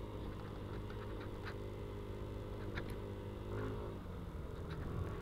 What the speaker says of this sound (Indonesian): Oke, engine brake nih.